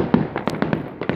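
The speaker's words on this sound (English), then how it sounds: "Doing fireworks on Amman Citadel." Fireworks over Amman Citadel for Jordanian Independence Day crackle and pop in a quick irregular series of sharp bursts, fairly loud, with a steady background hiss between the bangs.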